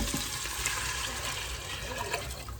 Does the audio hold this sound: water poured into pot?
yes